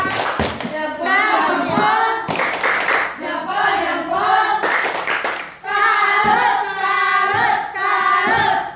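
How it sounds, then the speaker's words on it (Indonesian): A group of children performs the tepuk salut clapping chant in a classroom, their voices chanting in unison over sharp, rhythmic hand claps in repeating bursts. "Sekarang tepuk salut dulu untuk adik-adik semua"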